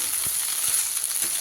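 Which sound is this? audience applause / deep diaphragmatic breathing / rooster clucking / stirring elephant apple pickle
stirring elephant apple pickle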